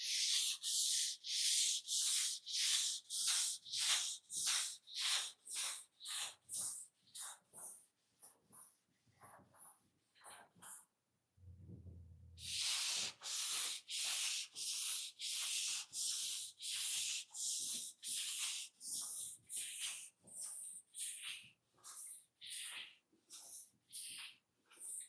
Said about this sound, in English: Let me know in the chat if you guys can hear me talking over the sound of the sanding.